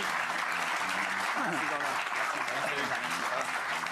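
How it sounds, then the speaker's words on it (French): Studio audience applauding a guest on a French television talk show, continuous loud clapping with a presenter's voice speaking over it throughout. "Applaudissements pour lui."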